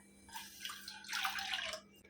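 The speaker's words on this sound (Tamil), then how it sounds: "ஒரு கப் மாவுக்கு ரெண்டு கப் தண்ணி சேர்க்குறேன்" Water poured from a cup onto rice flour in a bowl for Chettinad paal kozhukattai, a soft splashing trickle in two short bursts, faint and close.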